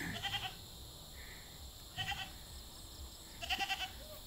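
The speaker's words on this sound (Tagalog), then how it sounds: "May baby kambing din." Baby goat on a rural farm bleating in three short bursts, each a quavering, fairly close call separated by quiet pauses over faint background noise.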